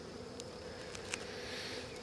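Steady, faint honeybee buzzing throughout, a dense low hum from a small colony inside a hive during a hive inspection, with no talking.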